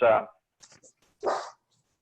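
Dog during an indoor fitness session giving two short, fairly quiet barks separated by a brief pause.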